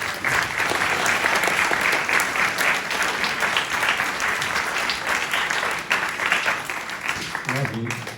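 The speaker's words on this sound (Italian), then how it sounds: "Un applauso ancora." Audience at an Italian book presentation gives a dense, steady round of applause filling the whole stretch, with a voice starting to speak just as it ends.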